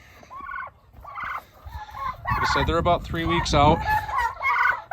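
Domestic turkeys, toms and hens, gobbling in repeated loud, close calls that overlap into a busy chorus, with someone talking quietly over them.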